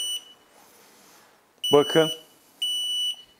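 Wireless networked smoke detector sounding short, high electronic alarm beeps indoors, with two clear bursts separated by pauses. A person speaks briefly between them.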